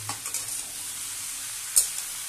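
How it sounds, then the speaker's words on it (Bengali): Potatoes frying in a pan for Bengali ghugni, a steady soft sizzle with a few light stirring scrapes and one sharp clink near the end. "এটাকে ভালো করে একটু ভেজে নিতে হবে।"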